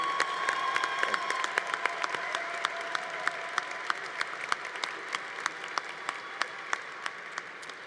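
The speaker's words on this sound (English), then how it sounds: "Once again, please join me in giving a round of applause for Professor Randy Wenner." Convocation audience applause for a retiring professor, heard as scattered, distinct hand claps that thin out and taper over several seconds in a large hall.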